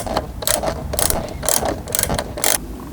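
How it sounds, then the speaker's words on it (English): A ratchet loosening a 10mm bolt on Toyota Land Cruiser interior trim: five quick bursts of clicking pawl, each about half a second apart, close and loud against a quiet background. "To remove the secondary trim panel here, we need to loosen and remove this 10mm bolt."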